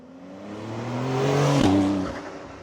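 Porsche 911 Carrera S 992.2 convertible engine, heard with the top down, revving steadily as the pitch climbs to a loud peak and then drops sharply on a gear change, continuing alone with no talk.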